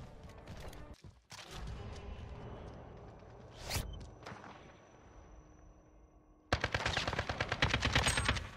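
MP7 submachine gun fire and reloading in a Call of Duty video game, with a burst of shots, mechanical clicks and handling sounds, then a loud rapid automatic volley at the end.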